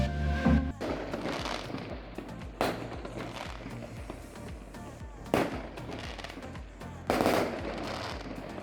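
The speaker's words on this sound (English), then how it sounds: "Fireworks are going off." Fireworks go off at dawn on Easter in La Paz, Bolivia, with sharp bangs every couple of seconds over a continuous crackle and rattle of firecrackers, moderately distant.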